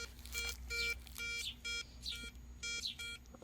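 Garrett ACE 250 metal detector signal tone, a steady high electronic beep repeating about five times in regular pulses, fairly faint over a low constant hum.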